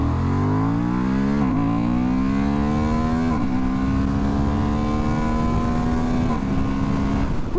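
A 2023 Honda Hornet pulls hard in first gear, its engine note climbing steadily as it revs up, with three quick shifts or throttle blips breaking the rising whine, loud and close against wind noise.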